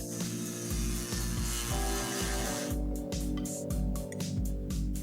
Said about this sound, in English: She changes the blade on the tip of the tool and widens the holes.